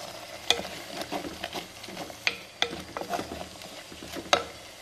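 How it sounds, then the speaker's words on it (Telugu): Curry leaves fry in a garlic and green chili paste in a pan while being stirred, giving a soft continuous sizzle with sharp scraping clicks of the spoon every second or so. "వెల్లుల్లి పచ్చిమిర్చి పేస్ట్లో కరివేపాకు వేసేస్తున్నాను"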